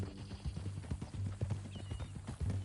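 Horse hooves clip-clop at a steady walking rhythm in the Red Dead Redemption 2 video game, close and clear, with faint background ambience and no talking.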